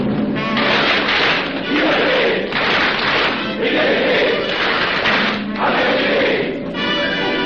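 Masonic lodge ritual: brothers clap in unison in several rhythmic bursts, a group acclamation with voices mixed into the clapping, in a reverberant hall.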